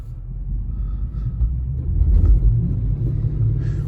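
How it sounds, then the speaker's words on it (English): An Infiniti FX50 on bald tires accelerates through snow, its engine a deep, steady rumble that swells louder midway and holds, with no voices. "If I keep holding the foot down on the gas, it's gonna get up to whatever speed you want."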